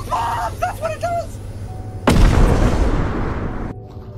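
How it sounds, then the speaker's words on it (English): A bomb goes off in the multiplayer horror game Content Warning. After a few spoken words comes one loud, sudden blast that rumbles and roars for over a second before cutting off into quieter ambience. "There's another thing down here too that exploded."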